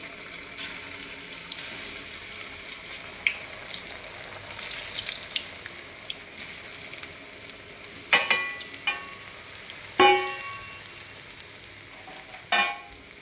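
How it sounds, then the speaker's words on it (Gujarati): Halved spinach pakoda pieces refrying in hot oil give a steady, close sizzle throughout, broken by a few sharper clinks and splashes of utensils near the end, with no voices. "પકોડાના 2 પીસ કરીને ફરીથી આપણે તળી લઈશું."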